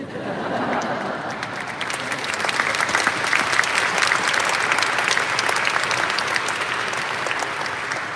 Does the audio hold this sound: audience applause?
yes